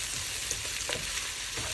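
Mushrooms and bacon fry in a pan with a steady, close sizzle and crackle, a few brief pops rising above the constant hiss.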